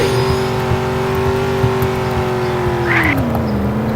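A Chevrolet Corvette C6 engine in the Ultimate Driving game holds a steady, loud droning pitch, then dips sharply near the end as if shifting gears, with no talking over it.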